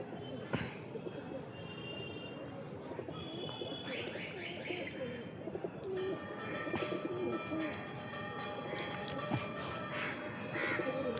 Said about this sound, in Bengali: দু একটা পায়রা এই ছাদে বসার ধান্দা করছে